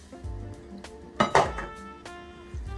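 Ackee and saltfish are stirred in a pot, with a spoon clinking and scraping against the metal in a few scattered knocks and a brief louder clatter.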